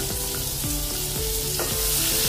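Butter sizzles steadily in a hot pan, a dense broadband hiss with a regular scrape of a spoon stirring every half second or so, close and fairly loud with no talking.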